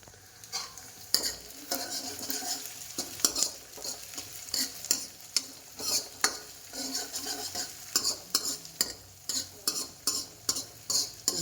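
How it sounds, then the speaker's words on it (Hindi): Oil crackling and spitting as greens are tempered in a pan with garlic, green chilli, onion and tomato, with repeated sharp stirring scrapes and clinks of a spoon against the pot. "तो मैं छौंक रही हूँ साग अभी।"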